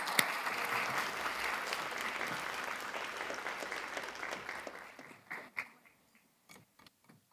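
An audience at an inclusive education conference claps steadily to welcome presenters, a dense, even applause that thins out into a few scattered claps and taps.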